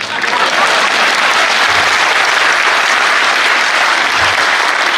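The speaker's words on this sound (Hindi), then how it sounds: "मेरे स्वागत में दोबारा जोरदार तालियां बजाएं" Loud, dense applause from an audience at a Hindi comic poetry gathering, a continuous roar of clapping that stays steady for the full five seconds with no talk over it.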